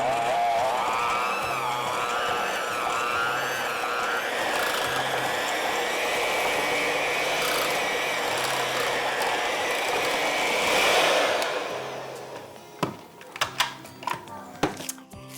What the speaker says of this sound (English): we're going to use our hand mixer with the whisk attachment and blend all of this together on about medium speed